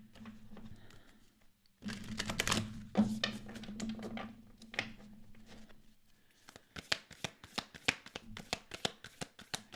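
A deck of tarot cards being shuffled and cut close by, a dense riffling burst followed by a run of distinct rhythmic card slaps and taps, quiet with no talk.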